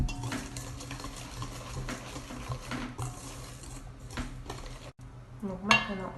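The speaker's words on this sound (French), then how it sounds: "Donc là on va fouetter bien jusqu'à ce que le mélange soit bien homogène" Brownie batter of flour and cornstarch whisked in a bowl, steady scraping and clinking strokes with utensil taps throughout, close by and fairly loud, no talking.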